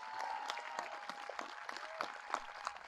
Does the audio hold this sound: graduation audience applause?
yes